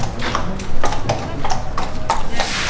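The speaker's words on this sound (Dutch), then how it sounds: "Ook overal paarden." Horses at a riding stable and sales yard, with hoofbeats clopping on hard ground in an uneven rhythm, fairly close, while people talk over them.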